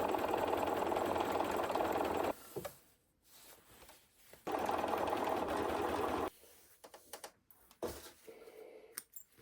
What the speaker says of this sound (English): So now we're going to just sew up these into little rectangles.